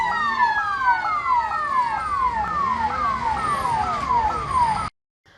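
A fire engine's siren from a municipal or MIDC fire truck responding to a fire at a plant yard, wailing in loud, steady rising-and-falling sweeps close by before cutting off abruptly.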